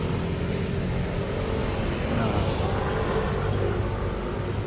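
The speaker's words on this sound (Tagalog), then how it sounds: "sana hindi maging contaminants yung ingay ng highway" Steady broadband roar of highway traffic along MacArthur Highway beside an old house, a continuous wash of passing vehicles with no distinct pass-bys, heard from a moderate distance.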